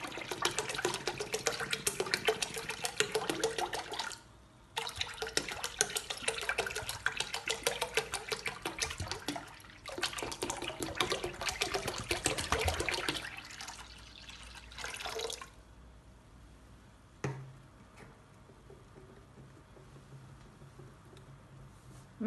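Liquid pours steadily into a large container, a continuous splashing gush that runs loud for about fifteen seconds with a few brief breaks, then stops, leaving faint quiet drips.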